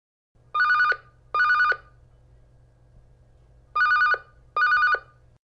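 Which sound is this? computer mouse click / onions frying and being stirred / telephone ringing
telephone ringing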